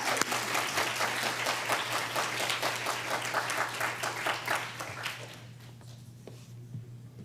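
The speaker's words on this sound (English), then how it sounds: "Give him a round of applause" An audience at a school awards ceremony applauds, dense steady clapping that gradually thins and fades out over several seconds, with a low electrical hum underneath.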